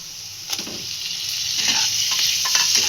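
Tomato being stirred into a frying spice masala in a pan, with a steady broadband sizzle and scraping strokes of the spoon that rise slightly in loudness toward the end.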